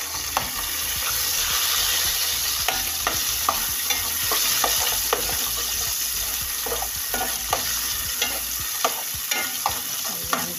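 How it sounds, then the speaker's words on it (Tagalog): Chopped tomatoes sauté in a hot pan, giving a steady sizzle broken by frequent scraping clicks from a stirring utensil. The sound is close and moderate in level, with no voices. "Gisa lang natin hanggang lumambot ang ating kamatis."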